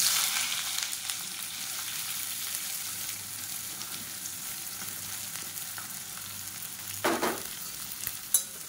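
Quiet, steady sizzling of sliced onions sautéing in a pan for egg curry, with a brief louder stir or clatter near the end.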